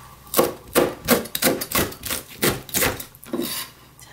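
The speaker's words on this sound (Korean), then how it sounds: "풋고추도 좀 썰어줄게요." Knife slicing green chili peppers on a wooden cutting board for soft tofu stew, giving about ten crisp, evenly spaced chops close up, with no talking.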